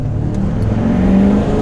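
A diesel truck engine responds to a light tap of the throttle, a loud, close rumble with a brief rising surge partway through, alone without speech.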